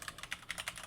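An email address being typed on a computer keyboard, a quick run of soft, close key clicks at an even pace.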